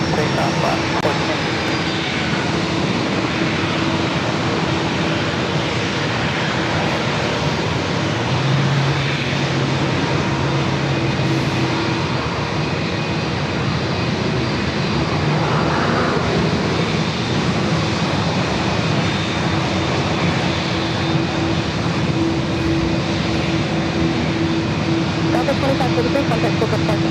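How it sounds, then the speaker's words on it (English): An Alaska Airlines jet roars steadily and loudly through its takeoff run on runway 27 at San Diego airport. A spotter talks now and then over the continuous engine noise. "So they're going to let this Alaska plane take off first."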